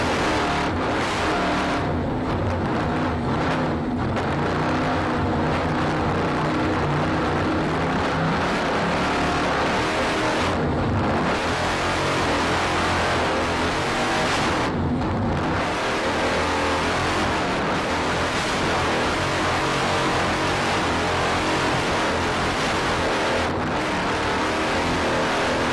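A racing engine throttles hard through a continuous, loud roar, with rising and falling revs and brief gaps as the throttle is lifted and reapplied.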